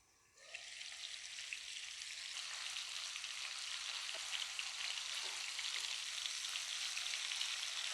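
Marinated chicken for butter chicken sizzles and fries steadily in a hot pan, a dense, continuous crackle that starts abruptly and holds at an even level with a few faint clinks, no voices.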